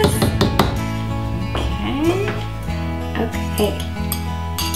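Green vegetable soup seasoned with salt and pepper is stirred in a pot. A utensil scrapes and clinks against the metal in uneven knocks, and a voice speaks a brief word.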